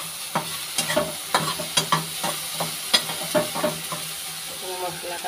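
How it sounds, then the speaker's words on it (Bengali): Soybean chunks frying lightly in a pan and stirred with a spatula: a steady low sizzle broken by irregular scraping clicks and knocks, close up, with no talking. "এখানে সয়াবিনটা ভেজে নিচ্ছি"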